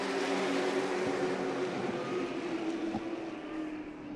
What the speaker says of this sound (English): The Pick Your Part Pro Late Models, 50 laps, ready to go, and we are racing at Irwindale Speedway.